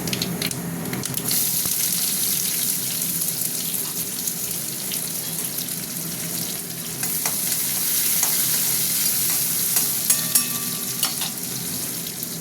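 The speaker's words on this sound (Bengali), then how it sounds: "তেল গরম হয়ে গেছে, শুকনো লঙ্কা দিয়েছি, একটু পাঁচফোড়ন দিয়ে দিলাম" Dried red chilies and five-spice seeds crackle in hot oil with a loud, continuous sizzle, broken by scraping stirs and a few sharper pops near the end, with no talking.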